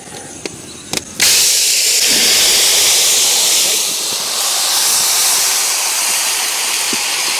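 A ground paste of green chili, onion and mint hitting hot oil in a pan, a loud sudden hiss that settles into a steady sizzle after a few small clicks.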